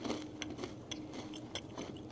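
Crunchy bourbon candied pecans being bitten and chewed close up, with quiet irregular crunches and scraping chews repeating through the short moment, no talking.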